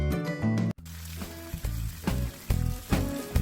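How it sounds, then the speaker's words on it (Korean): Food fries in melted butter in a pan, crackling and sizzling up close in several bursts, with sharp spikes where pieces are moved or turned and one brief cut near the start, and no talking. "이제 버터를 녹여가며 앞뒤로 노릇노릇 익혀주기만 하면 완성이에요."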